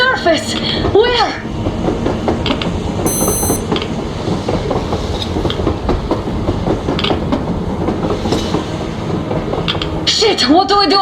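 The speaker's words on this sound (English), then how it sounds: "A train! A damn train on the surface!" A train on the surface in the video game Metro Exodus rumbles and clatters steadily, loud and close, with metallic squeals and a brief whistle-like tone, while someone shouts excitedly over it at the start and end.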